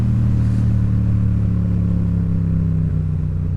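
A Yamaha XSR700 motorcycle with a swapped, remapped exhaust and the bung removed holds a loud, deep, throbbing engine note up close, steady throughout with no voices.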